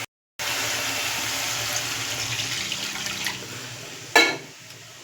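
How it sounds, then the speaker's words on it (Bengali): Water streams steadily into a hot cooking pan for a Bengali mustard fish curry, a continuous close pour with a brief louder splash near the end. "আমি অল্প পরিমাণে একটু জল দিয়ে দেবো।"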